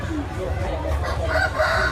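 Chickens at an egg farm shown during an agricultural fair at Khon Kaen University cluck and crow steadily and loudly close by, with people talking in the background.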